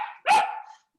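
A pet dog gives a single sharp bark close to the microphone, preceded by a short whine, then silence.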